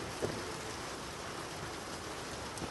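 Steady rain falls with an even, dense hiss that stays close and constant throughout, with a couple of slightly louder drops or spatters and no voices.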